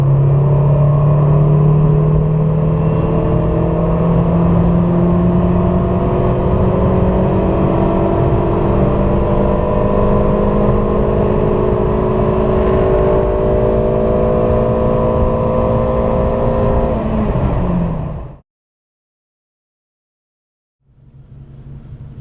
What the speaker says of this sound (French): Allez, en 4, 100 km/h, 4000 tours, go!